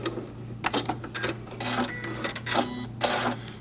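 A sewing machine runs in short stitching bursts along a folded-under fabric seam on a custom pink upholstered chair, with bursts starting and stopping and a steady hum beneath.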